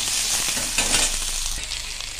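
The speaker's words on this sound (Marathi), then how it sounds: "त्याच्यात कांदा घालायचा आहे सर्वप्रथम। तर कांदा जो आहे तो पूर्ण सोनेरी होईपर्यंत व्यवस्थित परतून घ्यायचा।" Onions frying in hot oil in a pan, a steady close sizzle with faint stirring, no voices.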